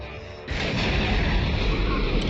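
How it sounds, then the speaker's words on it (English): A quiet stretch gives way to a sudden, powerful explosion from the film The Terminator that rumbles on as a sustained roar of blast and debris, loud and close. "Nice explosion."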